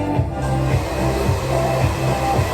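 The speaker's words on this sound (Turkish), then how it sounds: "Biraz komple kurut." A hair dryer drying freshly dyed hair in a salon roars loudly and steadily from close by, its airflow wavering slightly as it moves around the head.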